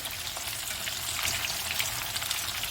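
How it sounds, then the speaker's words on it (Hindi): Fish fries in hot oil, giving a dense, steady sizzle with fine crackling pops that carries on throughout, close and fairly quiet, with no voices. "ये मैं मछली फ्राई करके निकाल लूँ"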